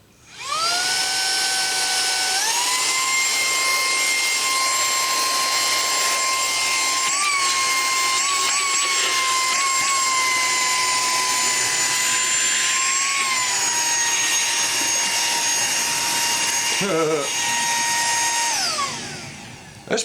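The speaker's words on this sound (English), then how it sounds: "With that stainless steel filter, I'll bet I can suck up bugs." Small handheld bug vacuum with a stainless steel filter whirring at a high pitch, revving up and holding a loud steady whine for nearly twenty seconds with slight pitch wobbles before winding down.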